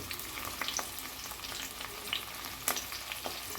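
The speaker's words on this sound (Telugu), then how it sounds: "గ్రీన్ చిల్లీ కూడా కొంచెం ఫ్రై కావాలి" Green chillies and onions frying in a pan for bagara rice with broad beans, a steady close sizzle with light stirring clicks and pops, no talking.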